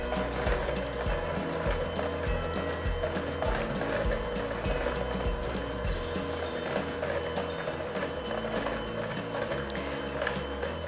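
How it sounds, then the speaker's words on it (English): An electric stand mixer churns Christmas cookie dough at medium-high speed, a continuous close whir with rhythmic clacking and thumping as the dough turns, steady throughout with no voices. "I usually mix it on a medium-high speed for about 30 seconds to a minute"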